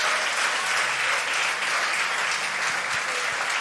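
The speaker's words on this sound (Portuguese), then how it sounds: "aplauda a Jesus." A church congregation claps together in steady, dense applause at a worship service, an even wash of many hands with no voices over it.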